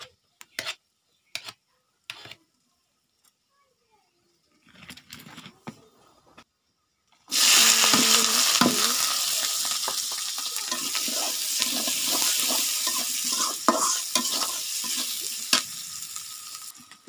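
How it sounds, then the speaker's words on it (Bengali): Green chilli, onion and garlic are fried in a pan. After several seconds of near-silence with a few soft clicks and clinks, a loud, steady sizzle suddenly starts and keeps crackling close by without talk. "যে কাঁচামরিচ পেঁয়াজ রসুন কেটে রেখেছি। এটা একটু হয়ে যাক, মরিচটা একটু ভাজা হোক"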